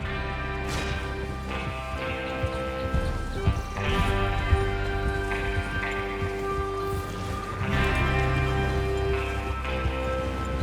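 Steady rhythmic hoof clip-clop of horses trotting in Red Dead Redemption 2, layered over a continuous music bed with a brief whinny-like rise partway through.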